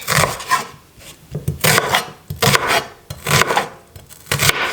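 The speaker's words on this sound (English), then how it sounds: "First up, it's shallot. Roughly cut." Rough chopping of a shallot with a kitchen knife on a board, a close, loud series of irregular rasping cuts in bursts with short pauses, no talking.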